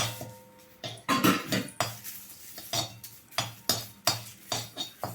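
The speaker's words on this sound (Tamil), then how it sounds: "அதுக்கப்புறம் கருவேப்பிலை அதே மாதிரி போட்டு ஒரு வறுக்கணும்." Curry leaves dry-roast in a pan without oil for idli podi, a metal spatula scraping and clinking against the pan in a quick, regular series of close strokes.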